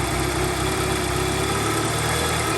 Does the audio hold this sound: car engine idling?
yes